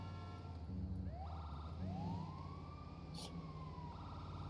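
An ambulance siren in a roleplay video game switches on and wails through a rising, sweeping tone over a steady vehicle engine hum, fairly faint overall.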